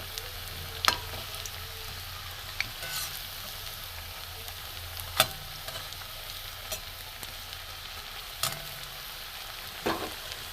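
Chira chops frying in oil give a steady, soft sizzle throughout, broken by a few sharp crackles and pops and occasional light clinks of stirring.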